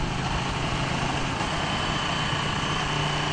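A 2016 Ducati 1299 Panigale S engine running steadily and fairly close, a continuous droning hum with no distinct rev changes, heard alone without talking.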